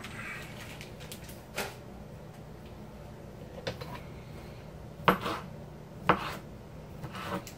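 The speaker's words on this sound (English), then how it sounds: "Then all you're going to do is cut your sausage little rings, not too big, not too small, bite size." A knife slices a split-open sausage into small bite-size rings on a wooden chopping block. A few sparse, dull knocks come close up against a quiet room background.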